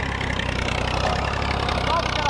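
A tractor engine labours as it climbs onto a bridge near the Chenab River, a steady loud low rumble with a continuous mid-range drone close by, with talk faintly in the background.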